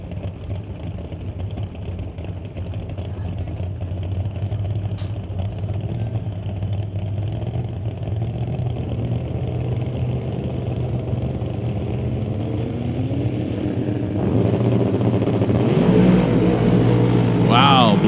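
A 572 cubic inch big block Chevy drag race car roars steadily at an NHRA Summit ET Series race, its engine drone rising louder near the end as it launches, with a commentator talking over it.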